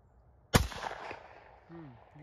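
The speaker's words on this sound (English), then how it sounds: "You keep shooting low" A single sharp .300 Blackout rifle shot fired at pumpkins outdoors, loud and close with a short ringing tail, followed by a brief voice.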